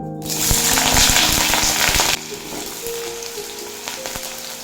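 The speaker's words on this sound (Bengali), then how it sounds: "তেল ভালো মতো গরম হয়ে গেছে এই তেলেই দিয়ে দেব আলু" Potatoes go into hot mustard oil and burst into a loud, close sizzle that suddenly drops to a softer, steady frying hiss with faint pops, and no one speaks.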